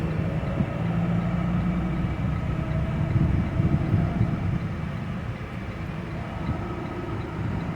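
A heavy freight train arriving at a rail ramp rumbles steadily with a low, continuous drone and faint squealing tones, rolling slowly and close by without pause.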